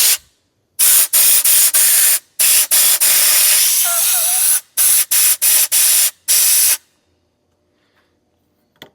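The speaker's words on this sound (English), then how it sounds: "I'm going to try to blow out debris and see what's actually in here" Compressed air blasts through the hose of a 20-year-old Fimco sprayer to clear out debris, a loud hissing spray in a dozen or so short bursts of varying length, one long sustained blast in the middle, then silence.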